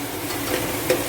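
Tomato pasta sauce with spices sizzles and scrapes as it is stirred in a hot pan, a steady crackling hiss with a couple of brief clinks.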